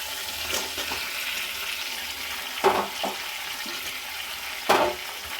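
Fried potatoes go into a pan of cooked-down masala releasing oil, for a fish curry, giving a soft steady sizzle with two sharper bursts of frying and faint stirring, fairly quiet throughout.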